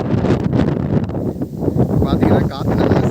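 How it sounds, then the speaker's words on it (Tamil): Cool breeze blowing across a ripening rice paddy field under cloudy skies, a steady loud rushing wind buffeting the microphone throughout with rustling. "காற்று நல்லா சில்லுன்னு அடிக்கும்."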